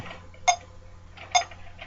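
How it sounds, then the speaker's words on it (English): Two crisp metronome ticks sound at a steady 70 beats per minute, with a faint hum beneath. "We're gonna use a metronome, and we're gonna play it at quarter note equals 70 beats per minute."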